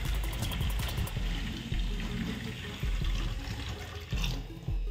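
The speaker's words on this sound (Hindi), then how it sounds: "देखिए अच्छा प्रेशर है, अच्छा पानी है और लीकेज भी नहीं है कहीं पर" Water gushes from a newly installed kitchen sink mixer tap at strong pressure, a close, steady rushing flow that runs continuously from start to finish.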